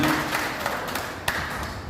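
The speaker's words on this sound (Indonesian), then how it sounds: "Mari kita tepuk tangan untuk kemuliaan nama Tuhan." Church congregation clapping hands during an Easter worship service, a dense, sustained spread of many hands with a few sharper individual claps standing out.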